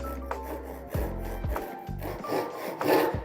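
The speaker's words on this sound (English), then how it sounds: "the cut motion definitely happens on the pull" A cheap pull saw from Temu cuts through a wooden board, starting its kerf against a straight edge, giving a few close, rasping rub strokes in uneven rhythm with brief pauses.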